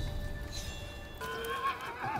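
A horse in the video game Rise of the Ronin lets out a loud, close whinny, followed by snorting and clip-clop hoofbeats, with soft game ambience beneath and no talking.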